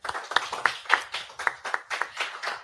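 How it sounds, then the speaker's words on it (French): Scattered clapping from an audience at an award ceremony, fairly sparse and rhythmic with individual hand claps standing out, moderately loud and close. "On peut l'applaudir."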